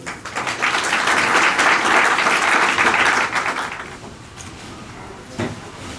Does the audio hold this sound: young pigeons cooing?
no